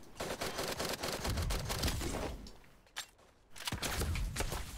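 Rapid bursts of video game gunfire, with the player coming under sniper fire, sharp repeated shots cracking close and dense, pausing briefly near the middle before resuming.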